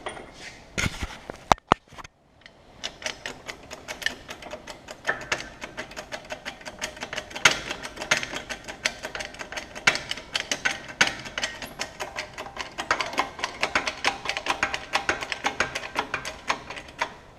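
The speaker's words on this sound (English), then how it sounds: "then I'm just gonna go down with the jack here" A car jack under an S13 is lowered with a rapid series of light metallic clicks and ratcheting ticks, starting with a few sharp snaps and then continuing as a dense, uneven clatter close by, without speech.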